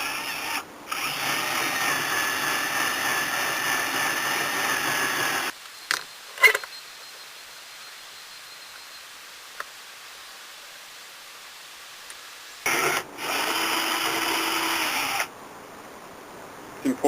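Power drill boring holes through wood knife scales: two steady, close whirring runs of several seconds each, separated by a quiet gap with a few clicks and handling knocks.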